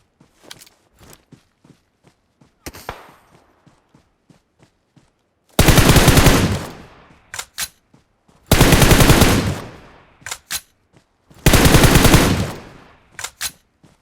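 Bursts of automatic gunfire from the mobile battle royale game PUBG Mobile, three long loud volleys with scattered single shots and footstep ticks between them, no talking.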